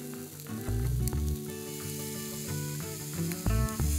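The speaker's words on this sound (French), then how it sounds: "On cuit la brochette sur toutes les faces pour donner du croustillant au lard." Scallop and bacon skewer sizzling on a hot plancha, a loud, continuous close crackle with bursts of stronger spitting and scraping as the skewer is turned, with music playing underneath.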